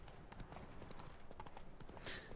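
Rapid rhythmic clip-clop of a horse's hooves in The Witcher 3: Blood and Wine video game, a steady galloping patter close up, with a brief breathy snort near the end.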